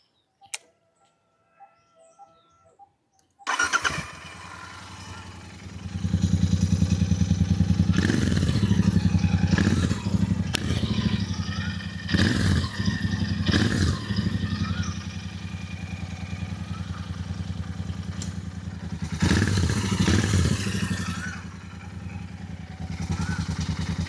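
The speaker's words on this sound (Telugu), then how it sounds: "ఇప్పుడు బైక్ది ఎగ్జాస్ట్ నోట్ ఏంటంటే స్టాక్ సైలెన్సర్ నాది" A Royal Enfield Interceptor 650 with its stock silencer starts after a few quiet seconds, then settles into a deep, throbbing idle with several louder throttle blips, recorded close up without talk.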